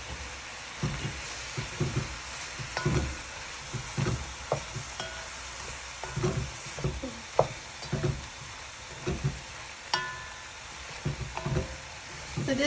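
Trinidad pelau with garlic cooking in a pot, a faint sizzle running under repeated scraping and clinking of a spoon stirring against the pot in irregular bursts, with brief quiet talk.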